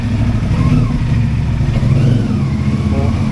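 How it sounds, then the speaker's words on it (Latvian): A motorcycle engine revs loudly and steadily at close range in a rough outdoor spot near a local dump in Morocco, with a continuous throaty drone. "Tā skaņa sulīga vēl tam mocim."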